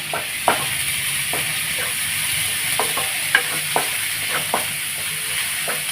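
Ingredients for a roadside-style tomato chutney sautéing in a pan, with a steady close sizzle and a handful of sharp knocks and scrapes from stirring scattered through it, and no talk.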